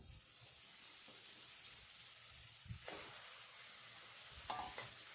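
Marinated mutton dropped into fried black spice paste, a soft steady sizzle and hiss with a few stirring clatters and scrapes, faint and close, no talking.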